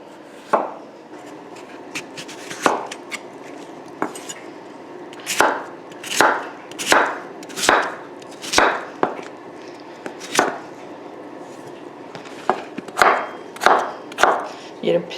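A knife chops potatoes on a cutting board for pork and potato burritos, making close, sharp thuds in uneven bursts, some spaced apart and others in quick clusters of two or three.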